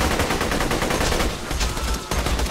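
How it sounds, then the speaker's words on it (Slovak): Rapid automatic gunfire from Borderlands 2 gameplay, dense and continuous bursts of loud shooting that fill the whole moment with only a brief dip. "Strieľanie je dobré"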